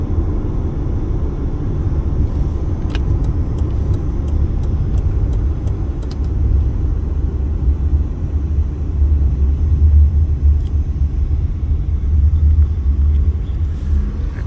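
Car driving on a Las Vegas road near the interstate, heard from inside as a steady low road rumble and engine hum, with faint clicks and no talk.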